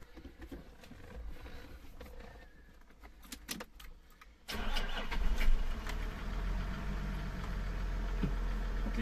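A few quiet mechanical clicks, then the 4.2-litre diesel engine of a Toyota Land Cruiser 100 cranks and catches, settling into a loud, steady, low idling rumble.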